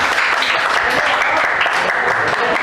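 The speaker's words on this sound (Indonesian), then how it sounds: "kita tepuk tangan untuk mereka" Loud, close applause for quiz winners in a classroom teaching assessment, a thick continuous patter of many hands clapping at once, with some background voices mixed in.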